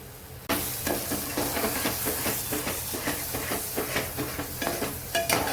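Chole masala spiced with Kashmiri red chilli roasts and is stirred in a pan, giving a steady close sizzle and hiss broken by repeated scraping strokes of the spoon, with no talking.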